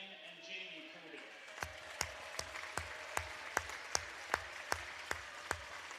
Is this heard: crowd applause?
yes